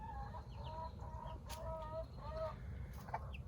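Chickens and chicks in a coop: a close series of bright, short peeping calls repeating in quick bursts, with soft clucks and rustling underneath.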